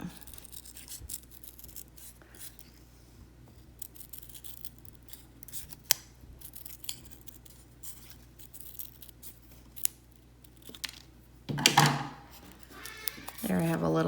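Scissors snipping through folded paper, a series of quiet, scattered cutting clicks close by, followed near the end by louder rustling and handling of the paper, with a person speaking briefly.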